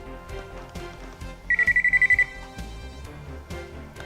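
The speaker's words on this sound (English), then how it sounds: "Go ahead and use your tester to determine which wire is hot" Electrical voltage tester beeping on a hot wire during a ceiling fan installation, a single rapid series of about eight short high beeps heard over background music.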